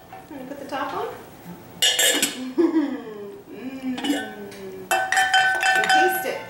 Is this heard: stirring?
yes